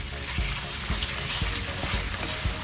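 Corned beef fries in a pan with golden-browned garlic, giving a steady, close sizzle broken by soft periodic knocks, as if the meat is being stirred.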